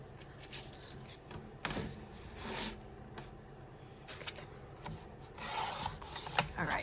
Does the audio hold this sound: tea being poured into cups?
no